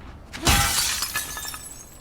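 A single sharp burst of glass shattering in The Last of Us Part II, loud and close, followed by a brief scatter of tinkling fragments that fades quickly.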